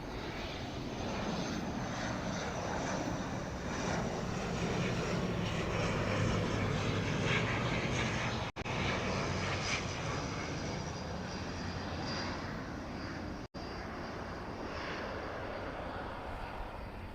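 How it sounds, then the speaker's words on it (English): An ATR turboprop airliner arriving at Auckland Airport makes a loud, steady propeller and engine roar that fills the whole stretch, with no talk over it. "ATR coming in from Blenheim."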